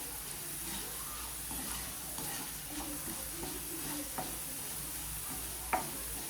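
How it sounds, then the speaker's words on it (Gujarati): Potatoes frying in oil in a pan, a soft steady sizzle broken by scattered clicks and scrapes of a spoon stirring them, fairly quiet with one sharper knock near the end. "બટેટાને હલાવતા રહીશું, જેથી બધી બાજુ સરસના ફ્રાય થઈ જાય।"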